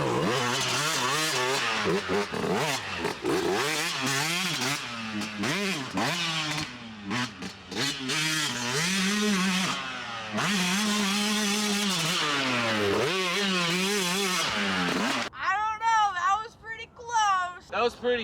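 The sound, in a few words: 125cc dirt bike riding an endurocross lap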